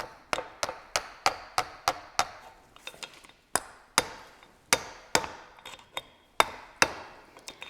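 Sharp, steady hammer blows strike metal over and over in a quick, even rhythm, driving a seal out of a Ford tractor hydraulic piston pump, with a short pause midway before the pounding resumes.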